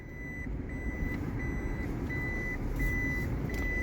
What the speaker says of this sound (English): Turn on my backup alarm. Why do Priuses have backup alarms?